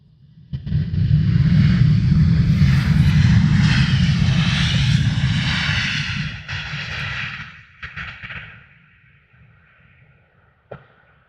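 A Ryanair airliner at Luton Airport roars loudly and close by, holding a steady broadband rumble for several seconds before fading, followed by a few faint knocks and a short sharp click near the end.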